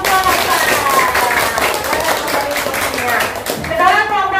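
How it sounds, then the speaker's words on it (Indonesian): Children in a classroom clap together for a group, a dense burst of hand claps running steadily throughout, with chatter and a teacher's voice mixed in. "tepuk tangan untuk kelompok"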